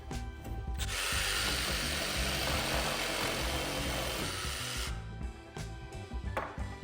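Milwaukee M12 FUEL cordless jigsaw cutting, a loud steady buzzing rasp that runs continuously for about four seconds, then stops, with brief mechanical clatter before and after.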